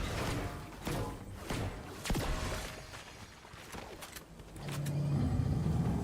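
A car drives in the video game Fortnite with a rumbling engine that fades and swells. Sharp clanks and thumps fall over it, and the engine grows louder and more steady toward the end.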